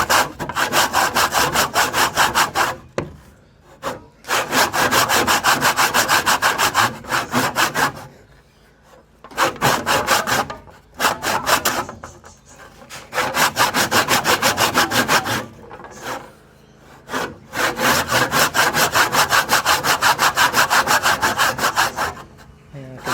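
A hand saw cutting through a wooden tenon joint with long, steady rasping strokes, close and loud, in several sustained runs broken by short pauses, with no talking.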